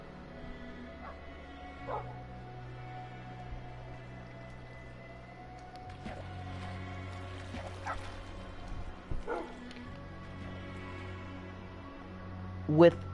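A dog in the video game Minecraft barks, yips and whimpers in short bursts over steady droning game tones, with a few sharper cries near the end.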